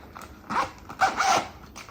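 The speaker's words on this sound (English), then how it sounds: "there's a button and then a zipper" A zipper on a rain shoe cover is pulled in two quick bursts, the second longer with a raspy, close, fairly loud rip, with no talking over it.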